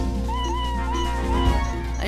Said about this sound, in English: I just like the meow.